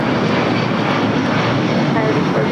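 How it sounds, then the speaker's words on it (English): Delta Boeing 757-200 taking off at LAX bound for Atlanta, a loud, dense engine roar filling the whole clip. "That was Delta 1263 taking off to Atlanta on a 757-200."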